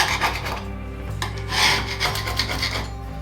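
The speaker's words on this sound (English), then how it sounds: "Now I can go around and scrape all the excess mortar out from the cracks here." A tool scrapes excess mortar out of the cracks between floor tiles, a close, raspy rubbing that repeats in short strokes with no talking over it.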